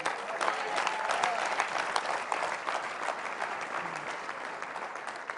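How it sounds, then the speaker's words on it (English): Sustained audience applause fills the whole stretch, a dense wash of many hands clapping at steady loudness at a leadership talk, with no voice over it. "Clap loud."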